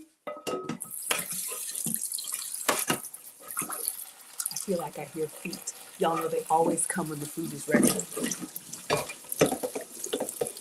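A skillet gets washed and scrubbed under a running kitchen tap. The water flows steadily throughout while people talk over it.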